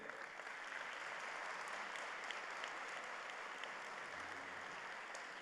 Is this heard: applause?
yes